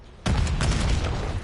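An enemy grenade explodes in Call of Duty Black Ops 6, a sudden loud close blast followed by a dense rumbling, crackling burst of debris and gunfire lasting over a second.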